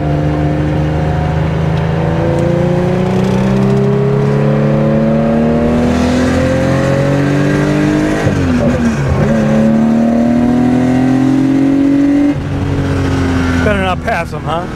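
Loud, close engine of a 1972 Porsche 911 T 2.8L EFI accelerating around a track, pitch sweeping upward through gears with a couple of quick shifts and a sharp blip near the end.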